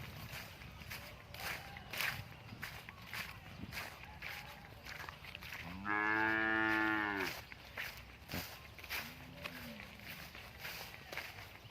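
A young female Charolais crossbreed calf gives one loud, drawn-out moo in a farm setting, with scattered footsteps and shuffling around it and a fainter, shorter low call later.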